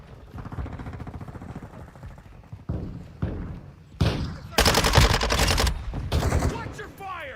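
Gunfire in Call of Duty Modern Warfare II: quieter rapid rattles give way to loud, close automatic bursts with sharp cracks toward the end, over a busy battlefield with voices calling out.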